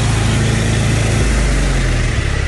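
A motorcycle engine idles close by, a steady loud low rumble with a slight dip in pitch partway through and no voices.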